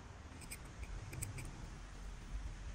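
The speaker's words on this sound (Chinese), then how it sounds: "左右两边都把它剪一下哈" Scissors trim the fabric of a V-neck tie-up T-shirt collar, giving a few quiet, crisp snips spaced out in a short burst over a faint room hum.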